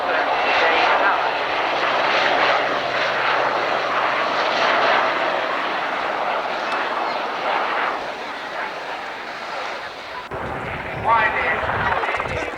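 A UK search and rescue aircraft flies past at an airshow, its engines producing a broad, sustained roar that eases slightly before cutting off near the end, with an announcer talking over it.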